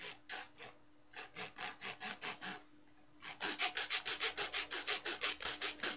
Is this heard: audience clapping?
no